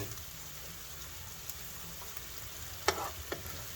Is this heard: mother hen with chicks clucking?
no